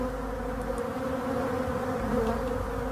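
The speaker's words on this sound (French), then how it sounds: "On voit des abeilles qui lèchent partout" Honeybees licking clean honey super frames produce a dense, steady buzzing hum, close and unbroken for three seconds.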